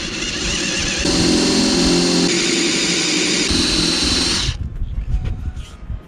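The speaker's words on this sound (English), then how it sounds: "I hate drilling holes in the deck." A power drill whirs loudly and steadily close by, drilling holes in a sailing boat's deck, its pitch shifting slightly, then cuts off, leaving quieter clatter and handling noises.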